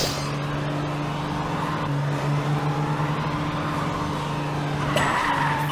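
A race car drives in PJ Masks Hero Academy, with a steady engine drone and tire skidding running throughout and a brief bright effect near the end.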